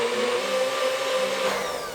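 A blender grinds tomatoes into thick juice with no water added, giving a loud, steady motor whir close by. It holds throughout with no voices.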